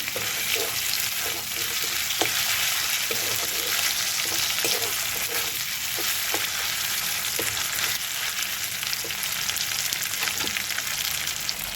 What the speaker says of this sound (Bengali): মশলাটা কষানো হয়ে গেছে